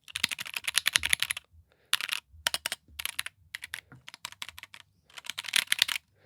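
Mechanical keyboard typing up close, crisp click-clack bursts of rapid keystrokes in several runs separated by short pauses, loud and alone.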